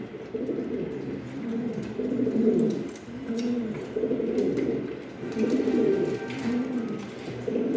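Andalusian Giant Huma pigeons coo in a loft, soft low rolling coos repeating in a steady rhythm of phrases, fairly faint and close, with no talk over them.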